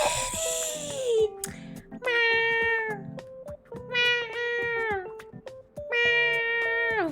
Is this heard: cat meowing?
yes